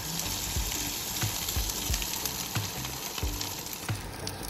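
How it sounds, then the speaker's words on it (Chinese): Egg tofu is stir-fried in golden sand sauce with a steady sizzle, while a spatula pushes and scrapes the pan in repeated soft strokes, close and alone. "用推的方式来炒鸡蛋豆腐。"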